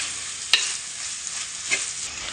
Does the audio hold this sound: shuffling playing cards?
no